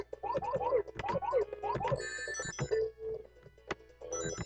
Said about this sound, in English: Just hit 100 rings, that's that special sound effect was for.